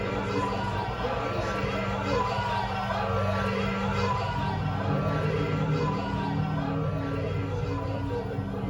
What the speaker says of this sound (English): Outside the hospital, the crowd began to chant